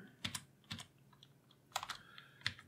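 A password is typed on a computer keyboard during an Ubuntu setup, heard as faint, sparse clusters of key clicks in a quiet room, with no voices.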